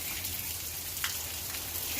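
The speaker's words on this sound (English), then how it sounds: "It's still raining." Steady rain falling in Las Vegas, an even, continuous hiss with a faint low background hum, heard alone with no voices.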